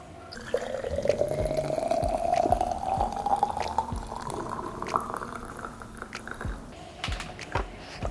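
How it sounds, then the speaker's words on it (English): Hot water pours steadily into a glass jar, a rising gurgling fill lasting several seconds, with scattered small clinks and taps around it. "we're going to start off by pouring our hot water into our glass jar"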